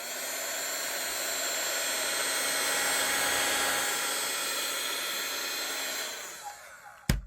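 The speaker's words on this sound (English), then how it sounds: "So I'm going to go over all the track work, hoover up any mess" A handheld vacuum cleaner hoovers sawdust off model railway track with a steady, loud whining roar that swells and then cuts off, followed by a couple of knocks and clicks.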